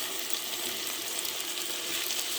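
Steady sizzle of onion and tomato frying, a dense continuous crackle and hiss close up, with no voices.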